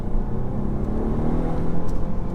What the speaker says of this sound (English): response is nice from this engine